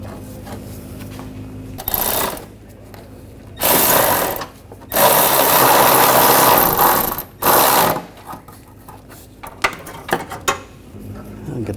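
A ratchet clicks in several bursts while tightening a bolt on the rear shock absorber of a 2014-2020 Nissan Rogue, loud and close, with pauses and small handling knocks between runs.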